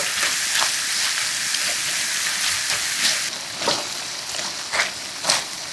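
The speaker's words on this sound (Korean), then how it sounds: "중불에 팬 올려 달궈지면 제육을 모두 올리고 골고루 저어주면서 볶아주세요." Korean-style spicy pork (jeyuk) stir-fries in a hot pan over medium heat, a steady loud sizzle and hiss throughout with occasional sharper spatters as it is stirred, no voices.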